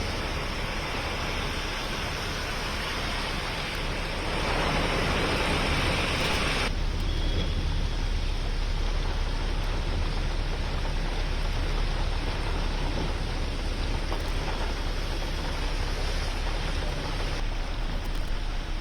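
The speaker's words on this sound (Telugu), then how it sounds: "రుతుపవనాల ప్రభావం వల్ల దేశవ్యాప్తంగా వానలు పడుతున్నాయి" Heavy monsoon rain pours down in India as a dense, steady roar that lasts throughout, with no voices.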